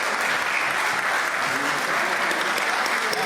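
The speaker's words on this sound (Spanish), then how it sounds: "Un abrazo y un aplauso grande a cada uno." Steady, dense applause from an audience in a parliamentary chamber session, honoring the folk group Raíces del Carmen, sustained at an even level throughout with no break.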